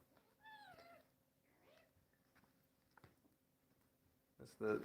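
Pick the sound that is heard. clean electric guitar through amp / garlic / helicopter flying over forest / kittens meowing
kittens meowing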